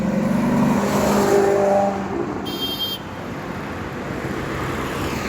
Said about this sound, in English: Maserati Gran Turismo has come.